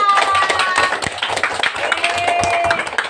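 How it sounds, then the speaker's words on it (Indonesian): A school class claps their hands together in a classroom, quick uneven claps from many children with a teacher's voice and chatter running over them. "Oke, tepuk tangan kita semua."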